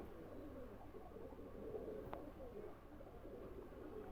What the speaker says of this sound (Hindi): ये कमगर कबूतर है माशाल्लाह से